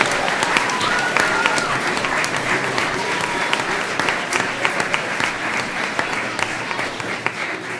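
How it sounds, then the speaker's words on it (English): A crowd at a school district governing board meeting applauds teachers being recognized, sustained, fairly loud clapping with sharp individual claps poking through a continuous roar. "So let's give them another round of applause."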